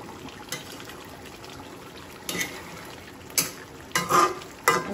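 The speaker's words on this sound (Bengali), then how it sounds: "এখন একটু নাড়াচাড়া করে দিই" Fish curry cooked in a pan is stirred, giving several scattered scraping clatters with a soft sizzle and watery bubbling underneath over a few seconds.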